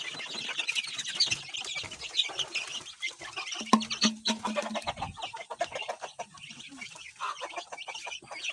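About nineteen month-old native chicks cluck and peep in a pen, a busy, overlapping chorus of short calls that runs throughout with scattered brief wing flutters, fairly close and moderately loud.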